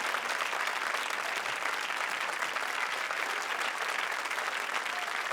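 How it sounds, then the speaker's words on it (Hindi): A comedy show studio audience on Comedy Circus 2 breaks into loud, continuous applause. It is dense and even for the whole stretch, with no talk over it. "जोरदार तालियां"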